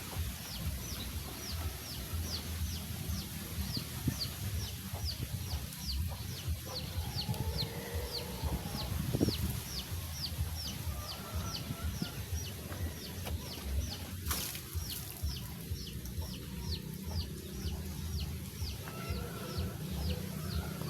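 Chickens cluck softly among a flock being fed, with a repetitive chirping bird call ticking through the background and a low ambient rumble, fairly faint and with no talking.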